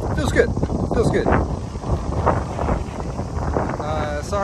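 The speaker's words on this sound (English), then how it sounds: "Sorry, it's a little bit windy now." Gusty wind in Japan buffets the microphone with low rumbling blasts, and a voice speaks briefly through it.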